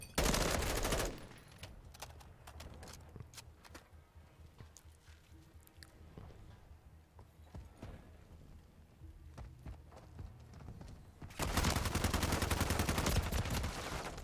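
Bursts of M4 rifle fire in a Call of Duty: Modern Warfare III match, loud rapid automatic volleys at the start and again near the end, with scattered single shots and clatter in between.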